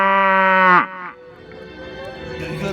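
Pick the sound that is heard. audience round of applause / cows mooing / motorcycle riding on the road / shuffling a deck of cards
cows mooing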